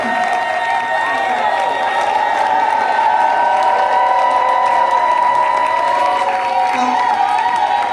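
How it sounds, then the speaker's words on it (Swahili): A church congregation claps and cheers during a service, the applause a continuous rough patter blended with sustained music and voices. "Makofi kwa Bwana."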